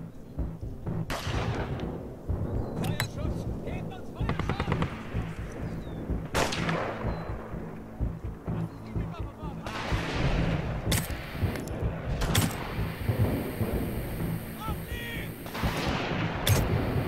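Heavy wartime battle din from an air strike on a bridge in 11-11 Memories Retold: repeated booming explosions and crackling gunfire over a constant rumble, loud and dense, with several sharp blasts standing out.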